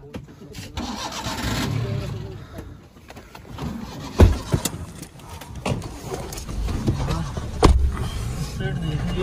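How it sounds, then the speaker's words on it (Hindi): A car engine runs and turns over while the vehicle is swung around, with voices talking inside throughout and two sharp thumps standing out partway through. "गौतम भैया गाड़ी घुमाओ फटाफट"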